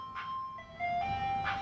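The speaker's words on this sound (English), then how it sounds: "Oh, wait, there's another ice cream truck." An ice cream truck passing by plays its tinny electronic chime melody, a few clear sustained notes sounding moderately near over low street rumble.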